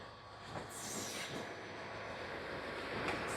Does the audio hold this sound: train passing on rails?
yes